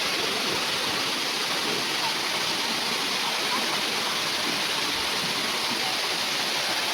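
Rushing water at the Green Valley waterfall makes a steady, dense roar that fills the whole stretch without a break and sounds loud and close.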